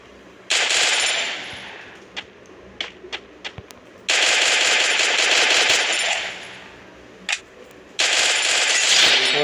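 Automatic gunfire in the Free Fire video game comes in three long loud rattling bursts, separated by a few single sharp shots and short pauses, close and dominant.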